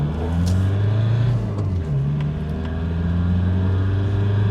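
A van pulls away from a standstill, its engine droning loudly and rising in pitch as it gathers speed, with a brief gear change partway through and no voices.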